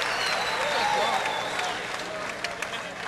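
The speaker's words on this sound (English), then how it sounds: "I want to hear a big warm round of applause for both these guys right here" Crowd at a 185-pound MMA tournament bout applauds both fighters after the match, a steady broadband wash of clapping and cheering that fades slightly toward the end, with an announcer's voice faintly over it.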